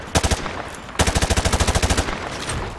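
Automatic weapon fire in Modern Warfare 2 Remastered as rounds punch through light cover: a short rapid burst, a brief pause, then a longer loud run of evenly spaced shots, close and dry with no voices.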